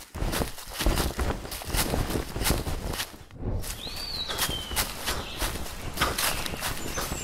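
Footstep Foley effects fired in real time from a trigger pad, a rapid, even run of loud close steps with a brief gap midway and a faint bird-like chirp.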